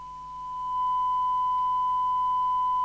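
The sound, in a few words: sine wave tone from repaired CB handheld radio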